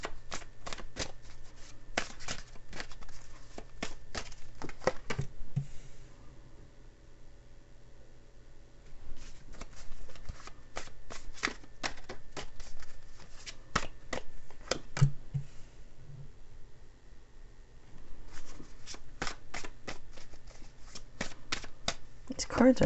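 Tarot cards are shuffled by hand in repeated bursts of crisp riffling and flicking, close and fairly quiet, with short pauses between rounds and someone talking softly over the shuffling.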